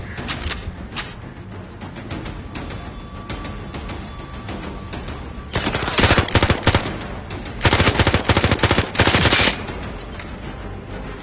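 Rapid automatic gunfire from a weapon in the VR shooter Zero Caliber Reloaded, in loud bursts of dense shots, quieter scattered shots before them and a final burst near the end.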